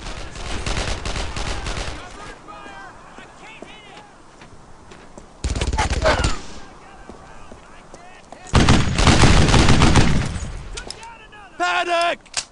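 Bursts of gunfire from the World War II shooter Brothers in Arms: Earned in Blood, loud volleys separated by quieter stretches with shouted voices in between.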